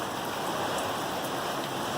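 Steady rain falling in Sydney, a dense continuous hiss of drops with no gaps and no voices, filling the whole stretch evenly.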